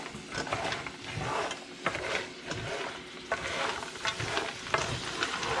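Almonds and pecans stirred in a bowl to coat them before smoking, a steady rhythmic scraping and rustling of nuts, close and clear, with no talking.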